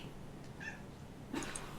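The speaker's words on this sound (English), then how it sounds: "No, that's my cat Annie." A pet cat named Annie gives a short, faint meow in a quiet indoor room, with a brief higher cry near the end and no speech over it.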